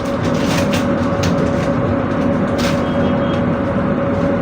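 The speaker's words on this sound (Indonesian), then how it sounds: "kereta api Sancaka yang saya naiki pada perjalanan kali ini" Sancaka executive express train on the Jogja–Surabaya route, heard from on board as a steady, loud, unbroken rumble and rush of running noise with no voices.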